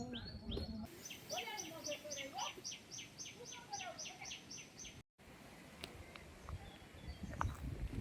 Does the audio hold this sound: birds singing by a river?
yes